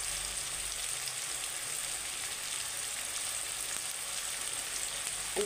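Onions sizzle steadily in a hot pan with a little salt, a dense continuous frying hiss that stays even and close throughout, with no voices over it.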